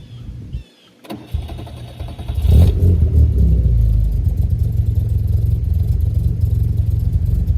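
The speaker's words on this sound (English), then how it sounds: "this car's got an aftermarket exhaust, which is a little throatier than stock" A 2020 Mustang Bullitt engine cranks and fires up, revving once with a deep, throaty aftermarket exhaust roar, then settles into a loud, rumbling idle.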